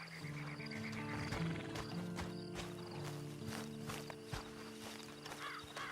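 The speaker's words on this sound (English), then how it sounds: "Then you better get on this horse." Rhythmic horse hooves clip-clopping at a steady walking pace in the video game Red Dead Redemption 2 Online, set against a musical background of sustained tones.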